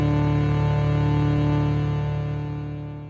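Synthesizer oscillators tuned down to 32 foot hold a deep, steady, buzzing drone rich in overtones, loud at first and then fading slightly toward the end, with no talk.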